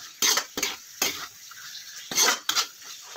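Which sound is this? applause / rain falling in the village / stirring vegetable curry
stirring vegetable curry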